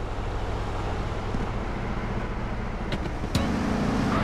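A stolen car in GTA San Andreas drives with a steady engine drone and road rumble, a couple of faint clicks and a slight pitch shift near the end, no talk.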